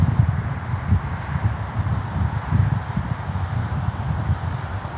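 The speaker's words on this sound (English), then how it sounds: "Yeah, there is some wind." Steady wind at LaGuardia Airport in New York, a constant broad rushing roar with gentle gusty swells, continuous and fairly loud with no other clear sounds.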